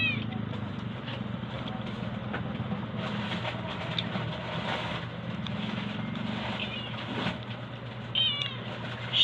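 Tubi, a pet cat, meows for food during lunchtime at home. Several short, clear meows come through a steady low background rumble, with people talking nearby.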